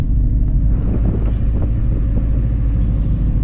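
Car engine in sport mode pulling away under acceleration during manual-transmission driving, a steady loud low rumble with road and wind noise throughout, no talking.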